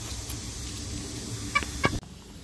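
Chickens on a farm, a rooster among hens, give a few short clucks over steady outdoor background noise, with two sharper calls close together near the end before the sound cuts off.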